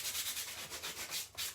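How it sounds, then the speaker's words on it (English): Rhythmic back-and-forth scratching of a roughly 120-grit sanding pad on wood, quiet and close, with regular strokes roughly every fifth of a second. "I'm just going to use a sanding pad"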